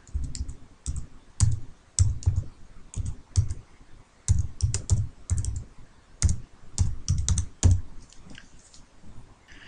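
Someone types a web address on a computer keyboard, bursts of quick, crisp key clicks separated by short pauses, close up and with no talking.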